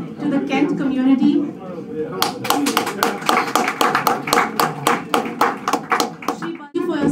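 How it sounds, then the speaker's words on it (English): Audience applause at a Vaisakhi celebration hosted by the Consulate General of India in Washington State. A voice speaks first, then a crowd breaks into steady, rhythmic clapping that fills the room and stops abruptly near the end. "May I kindly request everyone to kindly continue the applause"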